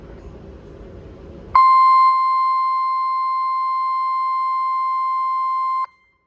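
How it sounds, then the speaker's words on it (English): Chemical alarm sounding on the battleship Wisconsin's forward deck house during a test, a single loud steady electronic tone that cuts in abruptly after faint background noise, holds for about four seconds and then stops. "The following is a test of the chemical alarm from the forward deck house."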